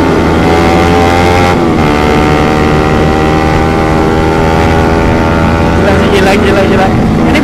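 A Suzuki GSX motorcycle fitted with a Pro Liner Short exhaust roars loudly while being ridden, its raspy engine tone dipping in pitch early on and then revving up again near the end.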